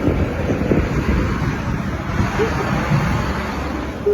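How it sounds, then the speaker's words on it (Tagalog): Strong wind roars steadily during a snow storm, a continuous broadband rush with gusty swells and low rumble throughout, no voices. "Ang lakas na ng hangin."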